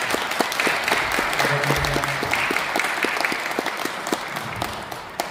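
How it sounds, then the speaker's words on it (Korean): Audience applause at a Korean forum on restoring human relationships, sustained clapping of many hands at a steady level, with individual claps distinct over the wash and a brief low hum partway through. "다시 한번 박수 부탁드립니다"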